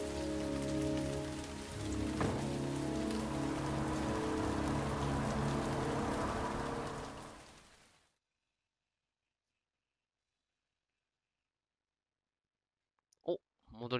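Rain falling in the video game Heavy Rain, dense hissing downpour with a low rumbling undertone that fades out and gives way to near silence, followed by a couple of short clicks at the end.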